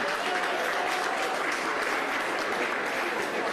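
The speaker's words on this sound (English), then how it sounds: "a round of applause for that" Dense, sustained applause from a crowd at a Texas political event, loud and even throughout with a faint voice briefly audible beneath it.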